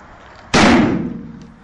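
Detonation of organic peroxide explosive produces one sudden, loud, sharp blast that decays over about a second, alone.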